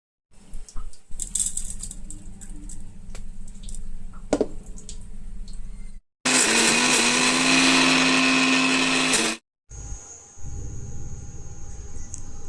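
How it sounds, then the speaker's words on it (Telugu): An electric mixer grinder crushes ivy gourd and peanut chutney with cumin and garlic, running in a loud continuous whir for several seconds between quieter stretches of jar handling and clinks, with no talk. "మనం జీలకర్ర వెల్లుల్లిపాయ కూడా వేసుకొని మిక్సీ పట్టుకోవాలన్నమాట"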